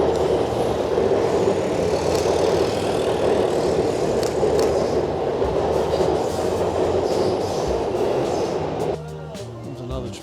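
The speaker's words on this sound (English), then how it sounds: "There's another train up top." A train passes a level crossing that photographers favour, a loud, continuous low rumble and roar of wagons on the rails with faint clatter, which thins out near the end as a few tonal squeals appear.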